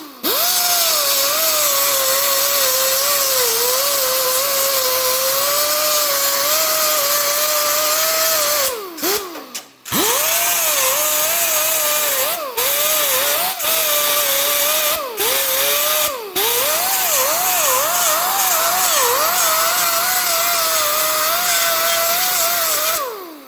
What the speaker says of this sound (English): I'm actually going to weld like an inch, grind it, weld an inch, grind it